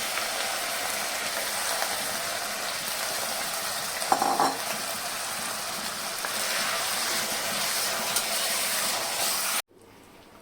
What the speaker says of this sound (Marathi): आता हा सगळा खिमा आपण याच्यामध्ये छान परतून घ्यायचा आहे